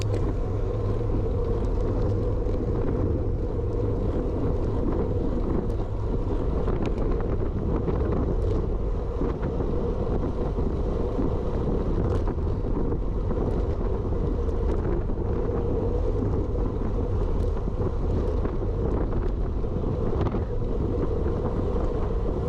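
Strong wind roaring across the microphone during a road bike club race ride, a continuous loud buffeting rumble with gusty fluctuations and faint rattles, steady for the whole stretch with no talking.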